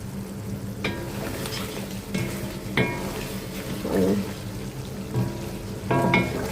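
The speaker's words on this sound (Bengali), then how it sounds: "আর যে রোস্টটা কষায় নিচ্ছি" Roast meat is stirred and sautéed in a pan, with a steady sizzle of frying under repeated scraping strokes and occasional clinks of a utensil against the pan.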